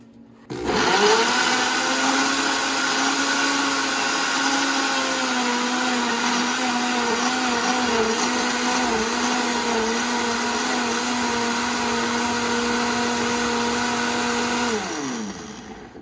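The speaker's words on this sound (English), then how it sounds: "now we're going to go ahead and grind it" A blender grinds Nando's-style peri peri sauce ingredients with oregano, a loud, steady motor whine that starts abruptly, holds for about fifteen seconds with slight pitch wobble as the mixture churns, then winds down.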